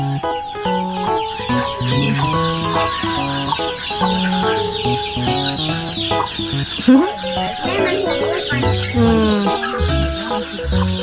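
Hens cluck near a poultry coop on a farm where duck eggs are gathered, with many overlapping clucks and calls running close and loud throughout.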